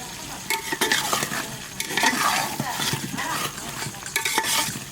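A spoon stirs ground turmeric, cumin, coriander, Kashmiri chilli powder and salt in a pot of mutton curry over a low flame, with loud, continuous scraping and sizzling in uneven strokes and no talk.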